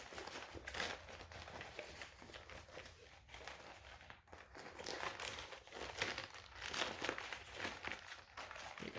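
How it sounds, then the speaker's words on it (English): A plastic tackle storage binder holding soft-plastic bait packs is folded open up close, giving continuous crinkling and crumpling rustles with soft handling bumps throughout. "Let's see if I can fold it open for you."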